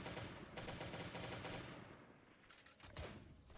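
Gunfire in Last Day on Earth while clearing Bunker Bravo: a dense, continuous burst of rapid shots fills the first two seconds, followed by a few separate single shots, with no speech.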